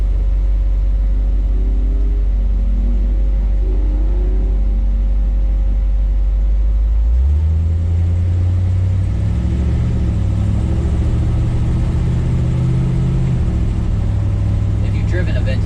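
A 1955 Chevy Cameo pickup truck's engine rumbles low and steady while driving, shifting to a rougher, louder drone partway through, with a voice talking over it.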